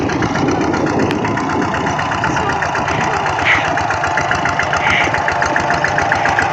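A tractor engine runs steadily while plowing a rice field, a loud, close, continuous chugging drone with a rapid knocking pulse and no break in its rhythm.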